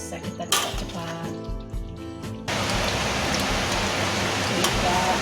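Steady, dense rain hiss begins about halfway through, replacing earlier mixed background sounds and continuing evenly at moderate loudness while beef rendang is stirred.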